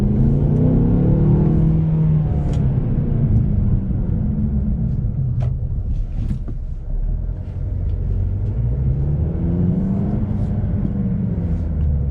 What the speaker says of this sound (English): Now that's a ton of power on this 2-liter inline 4, 221 horsepower with